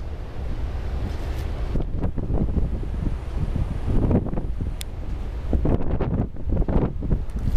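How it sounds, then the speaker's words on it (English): Blizzard wind gusting down a downtown Chicago street near the lake, a steady loud roar buffeting the microphone with rising and falling surges throughout. "try to get an idea of how fast this wind is whipping down the street."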